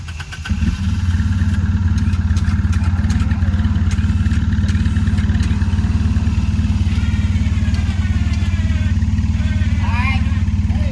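Wildcat off-road side-by-side engine cranks and catches after a brief start, then runs steadily at a loud, close idle with light revving and clattering on a muddy trail, while people talk over it.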